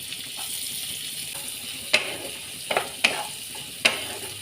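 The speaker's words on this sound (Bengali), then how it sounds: "হালকা ব্রাউন হওয়া পর্যন্ত ভেজে নেব।" Finely chopped onion sizzles steadily in a pan with cumin, broken by a few sharp clicks and scrapes of a spoon stirring, close and alone.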